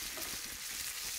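Black pudding frying in hot oil while being stirred in a pan, a steady close sizzle with soft scraping movement throughout.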